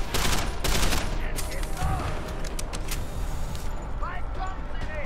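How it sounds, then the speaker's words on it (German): Rapid gunfire from Deus Ex: Human Revolution, aimed at a barrel that does not explode: several sharp, loud shots crowd the opening second, and further scattered reports follow over a steady game background. "Ich wollte auf das Fass schießen, aber es geht nicht hoch"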